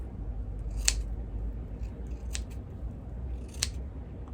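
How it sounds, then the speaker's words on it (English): Scissors snip through hair three separate times at home, close and crisp metallic cuts spaced about a second apart, with no talking. "your scissors should be pointing towards the hair, and you cut it in the middle like this."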